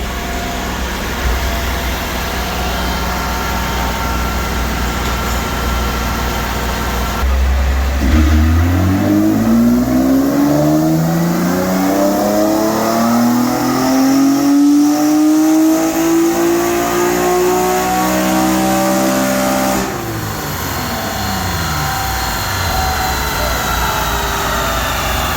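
A drift car engine roars through its final dyno power run, climbing in a long, loud rev sweep from idle up to peak and then cutting back. The engine is close, fills the whole passage, and has a little talk around it.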